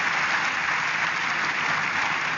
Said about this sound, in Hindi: सो जोरदार तालियों से स्वागत करिए प्रज्ञा का